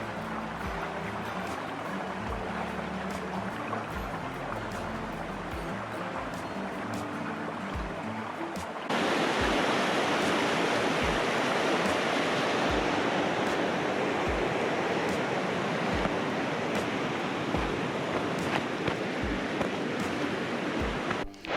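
A rushing stream pours into a pond at a campsite with a steady, loud broadband roar. It starts moderate and jumps sharply louder partway through, continuing close and unbroken with no talk.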